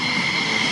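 Loud, steady roar of a twin-engine jet-powered truck at an air show, a continuous whooshing jet drone with a sustained high whine, close and unbroken.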